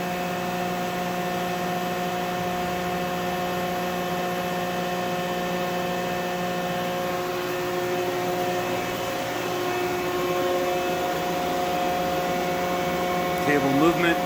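The table of a Union BFT 105 CNC horizontal boring mill traverses with a steady electric hum and whine, tonal drone holding throughout, with brief mechanical rattle near the end.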